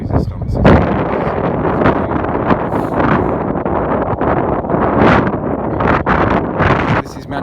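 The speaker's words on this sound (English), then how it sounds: "This wind, it was really bad earlier" Strong, continuous wind buffeting the microphone beside the River Thames at night in London, a loud roaring rush with gusty flutter and no clear gaps.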